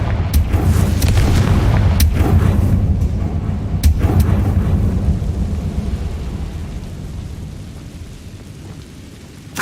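Repeated Confringo spell explosions in the video game Hogwarts Legacy burst in a run of sharp cracks over the first few seconds. They merge into a heavy, rolling thunder-like rumble that gradually dies away, with no voices.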